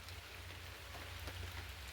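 Steady rain falling on potted orchids, a dense continuous patter with a low constant rumble underneath, no voices.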